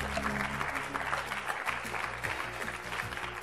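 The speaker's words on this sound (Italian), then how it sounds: "bel applauso anche per Domenico" At a student festival quiz show, an audience claps for a contestant, a brisk, even patter of many hands under a presenter's amplified voice.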